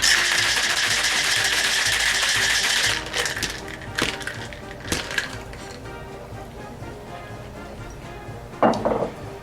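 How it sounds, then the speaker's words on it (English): A cocktail mixed with a few dashes of grenadine is shaken hard in a shaker, a dense, loud rattle of ice for about three seconds, then scattered knocks and clinks as the shaking stops. "this one you could just stir, but we're going to shake it"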